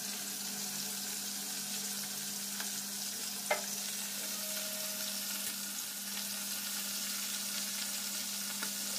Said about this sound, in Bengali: আমার মাছটা ভাজা হয়ে গেছে, ভালোভাবে ভেজে নিয়েছি।